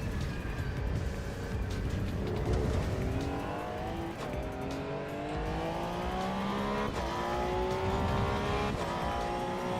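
A Porsche race car in the AC EVO racing game accelerates hard, its engine note climbing repeatedly through gear changes, with brief tire squeal, loud and continuous.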